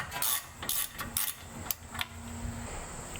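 Ratchet wrench clicking on a rear brake line bracket at the caliper of a 2015 Jeep Cherokee KL, a few quick bursts of close mechanical ratcheting with brief pauses between them.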